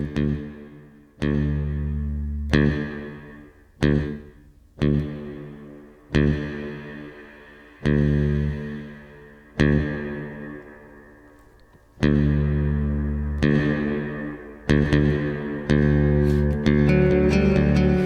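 Deep bass guitar notes plucked one at a time at an uneven pace through a reverb effect pedal, each ringing out and fading with a lingering reverb tail.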